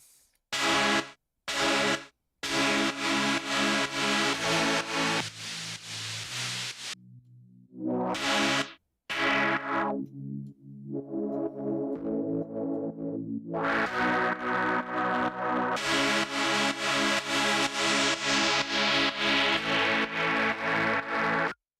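Heavily distorted electric guitar chords played in bursts with short gaps, loud and gritty, then settling into sustained, thick distorted strumming.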